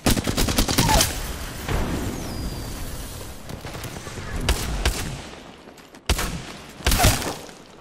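Gunfire in the Apex Legends battle royale game, rapid bursts of automatic weapon fire and sharp single shots in clusters, loud and close, with booming impacts and gaps between volleys.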